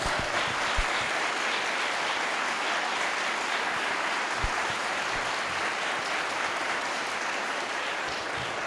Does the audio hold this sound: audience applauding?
yes